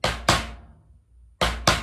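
Two drum flams played with the sticks clearly separated, each pair a sharp near stroke followed a quarter second later by a second, a short pause between the two pairs, no talk.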